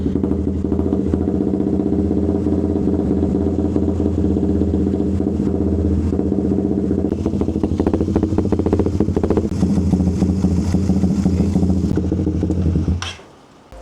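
A Suzuki GSX 150 motorcycle fitted with a new Proliner TR1-R Neo exhaust runs loud and close, a steady rumbling idle that turns into choppier revving blips before the engine cuts off abruptly near the end.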